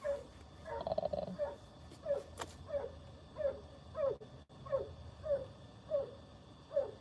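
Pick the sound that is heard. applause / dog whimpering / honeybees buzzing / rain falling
dog whimpering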